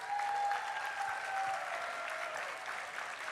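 A keynote conference audience claps for the interpreters, a dense, even wash of many hands that sounds somewhat distant and steady throughout, with no voices on top.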